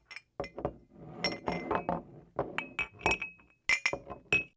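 Glasses clinking together in a toast, several bright ringing chinks and taps in quick succession, close and clear amid light handling noise.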